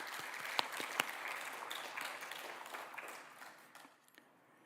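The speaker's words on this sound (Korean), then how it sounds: "박수 한번 하겠습니다" A church congregation applauds, a quiet sustained patter of clapping with a couple of sharp claps standing out early, gradually thinning and fading away toward the end.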